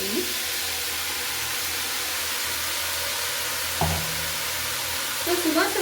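Ground masala paste hits a hot pan for pea gravy and sizzles in a steady, loud broadband hiss, with a sharper spatter burst near the end and a few stirring knocks.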